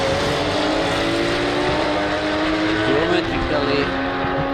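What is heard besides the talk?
Porsche Cayman race cars racing on circuit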